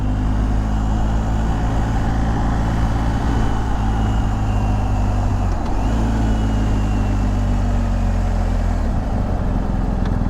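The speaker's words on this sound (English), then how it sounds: "Man, that engine is super smooth." A BMW R1250GSA motorcycle engine runs steadily at a smooth, low idle, a continuous close rumble with a brief dip partway through and no talking over it.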